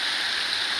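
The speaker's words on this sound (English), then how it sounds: "You can see the rain coming down." Rain falls in a steady, dense hiss in cold, wet November weather outside a bus being lived in, with no talking.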